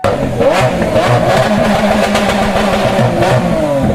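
A nearby motorcycle engine revs loudly and continuously, its pitch rising and falling in repeated surges with some mechanical clatter, and no talk.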